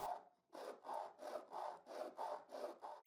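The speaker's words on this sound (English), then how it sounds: "Now I put this plank on the sandpaper, and I use the square to keep it perfectly vertical, and I sand the cuts I made in both halves." A wooden plank, held upright against a square, is rubbed back and forth on sandpaper to true its cut edges for a wooden choker. About eight rhythmic, evenly spaced rasping strokes sound close by and fairly quiet.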